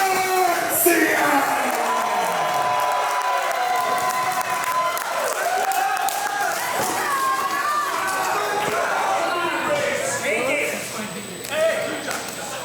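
Wrestling crowd in Elmsford, New York cheering and applauding for Nunzio, a steady loud roar of voices and clapping that swells near the end, with an announcer's voice over it.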